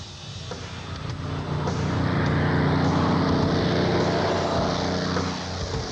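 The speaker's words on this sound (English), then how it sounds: "the North American P-51 Mustang, used in the Battle of Britain to fight the Germans" North American P-51 Mustang propeller plane, a steady loud engine drone that swells slightly in the middle and holds throughout, with no talking.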